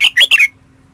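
A trapped red-whiskered bulbul gives three sharp, loud squawks in quick succession, close by, followed by near silence with a faint steady hum.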